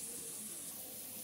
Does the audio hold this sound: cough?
no